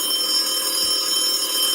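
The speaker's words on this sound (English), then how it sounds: "All right, Kyle, ring that phone." A telephone ringing, a sustained bright electronic tone with steady high harmonics, continuous and fairly loud throughout, with no voices.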